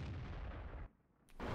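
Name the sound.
tank gun firing a shot in World of Tanks video game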